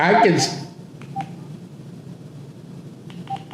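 Telephone tones sound on a call line during a paranormal talk show, a few short faint beeps scattered after a brief burst of talk at the start.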